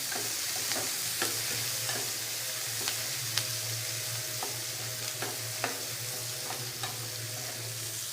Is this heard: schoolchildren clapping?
no